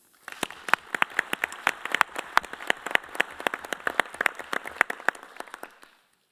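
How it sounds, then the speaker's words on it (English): Congress audience at a skating federation meeting applauding in steady, moderately dense clapping that carries for about six seconds and then stops abruptly, heard from a middle distance with no talking. "Let's therefore please congratulate Portugal and applaud their commitment to both"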